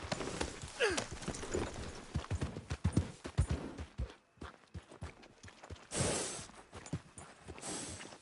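Video game horse hooves clip-clop at a steady walking pace, moderately close, with a brief quiet gap midway and some mechanical clatter in the background.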